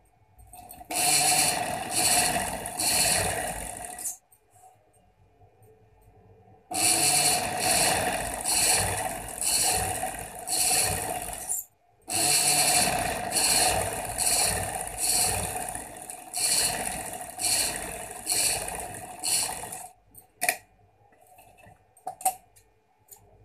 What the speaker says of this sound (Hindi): और यहाँ मैं इसके इतना सा मार्जिन छोड़कर फिर सिलाई लगाऊंगी